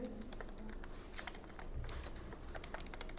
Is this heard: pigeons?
no